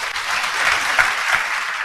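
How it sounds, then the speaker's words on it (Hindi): A classroom of students claps for a classmate who answered well, a short burst of dense, even applause heard nearby. "तालियां बजाओ इनके लिए।"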